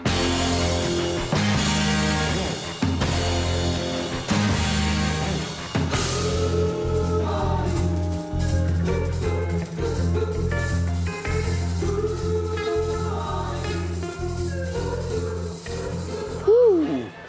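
An excerpt of a rock song plays loud and steady, with strong rhythmic chords, a driving beat and a vocal line, during a French television quiz show.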